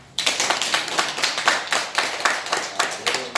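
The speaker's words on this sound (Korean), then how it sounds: "우리 스스로에게 박수 한번 칩시다" A small religious congregation of the Daejonggyo faith claps for itself, loud, close rhythmic group clapping in near-unison beats, roughly three to four claps per second, starting abruptly and continuing evenly.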